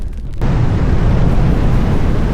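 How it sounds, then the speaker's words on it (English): Strong storm wind buffets a person walking outdoors, a sudden loud roaring gust slamming in after a brief quieter moment and then blasting steadily and close, with coats flapping. "The wind's knocking it up a notch here."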